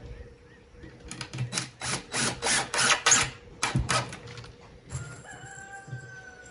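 A rooster crows loudly nearby on a working farm in a series of drawn-out calls, with softer clucking from chickens and faint background noise afterward.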